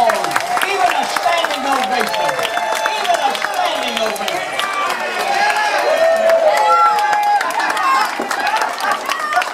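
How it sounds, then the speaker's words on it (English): A cruise-ship audience breaks into sustained applause, with dense clapping, cheering and crowd chatter filling the room at a loud, steady level throughout. "I want you to give her a nice round of applause."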